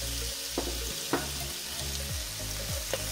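Onions fry in a little fat in a wok, giving a loud continuous sizzle broken by a few sharp stirring clacks.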